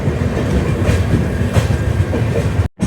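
A Rajdhani Express passenger train on the Anand Vihar to Sairang route runs along the tracks, a loud, steady rumble with rhythmic wheel clatter throughout and a brief dropout near the end.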